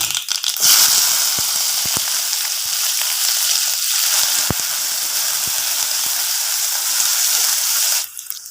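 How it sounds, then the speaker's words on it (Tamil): Shallots, garlic and curry leaves frying in hot oil with popping mustard seeds and urad dal, a loud steady sizzle from start to end with a few sharp crackles and pops and no talking. "இப்போது சின்ன வெங்காயம், பூண்டு, கறிவேப்பிலை இது மூணையும் சேர்த்துக்கலாம்"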